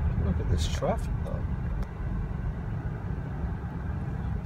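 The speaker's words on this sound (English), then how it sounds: "oh man, look at this traffic though." Street traffic: a steady low rumble of idling and passing car engines close by, with a brief whoosh of a passing vehicle and voices talking over it.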